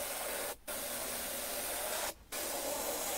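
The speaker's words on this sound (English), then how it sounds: "The beauty of this stuff is you can spray at a lot lower PSI," An airbrush sprays paint onto an RC car body shell at low pressure, giving a close, steady hiss that breaks off twice briefly and then resumes.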